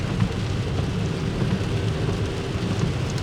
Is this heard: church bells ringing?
no